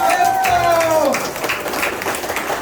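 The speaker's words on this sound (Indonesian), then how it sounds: "Tepuk tangan Anda semua." A seminar audience in Serpong, Tangerang applauds, with a wash of clapping and crowd noise starting right after a voice and then continuing steadily.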